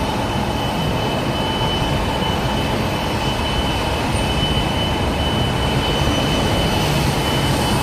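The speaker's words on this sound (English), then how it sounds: "we're walking by the heliport, and that's why it's so noisy" A loud, continuous mechanical roar with a steady whine from a helicopter at a heliport on New York City's East River, like an engine idling, unbroken throughout with no talk.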